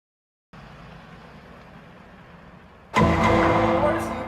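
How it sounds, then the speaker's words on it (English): A car pulls away past a police car, its engine rising suddenly to a loud, close rev after a quieter stretch of idling background. "She nearly clips the front of Officer Marquez's cop car"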